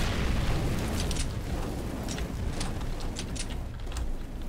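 A thrown incendiary grenade bursts and burns in CS:GO, giving a steady roar of flame noise with scattered sharp crackles and pops over several seconds, fairly loud and close.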